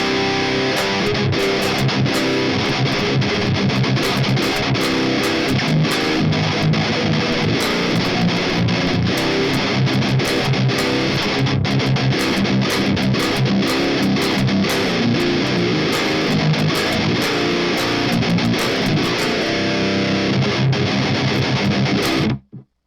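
Electric guitar driven through a Jeff Loomis Devil's Triad distortion pedal, playing dense, chunky high-gain riffs with steady palm-muted chugging for about twenty-two seconds, loud and continuous before stopping abruptly.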